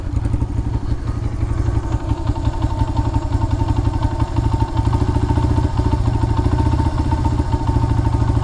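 A Honda XR100 motorcycle that had sat unstarted for 17 years idles steadily, its small engine putting out a loud, close, continuous rapid putter with a faint mechanical clatter and no voices.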